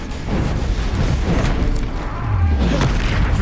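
Bombarda explosion spell in the video game Hogwarts Legacy, a loud, dense blast with a deep rumbling low end that stays heavy through the whole moment, swelling slightly near the end.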